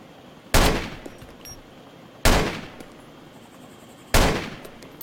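Three loud, sharp gunshots ring out in the DayZ Overpoch game, evenly spaced about two seconds apart, each decaying quickly, with no talking.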